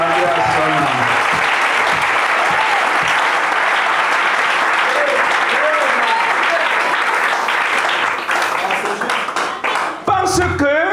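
Church congregation applauding and cheering, a loud, steady wall of clapping that holds throughout, with voices rising through it and a brief dip near the end.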